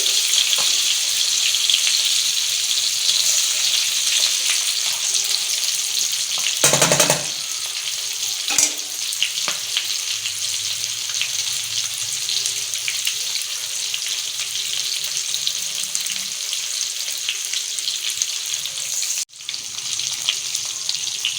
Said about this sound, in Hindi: ये हमारी फर्स्ट क्लास बेहतरीन सी फिश हो रही है फ्राई